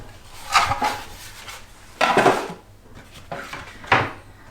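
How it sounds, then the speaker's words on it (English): Kitchen scales being put away while baking gluten-free Christmas muffins: three separate clattering knocks of hard objects, like dishes or a drawer, spaced about a second and a half apart, close by with no talk. "I can put the scales away"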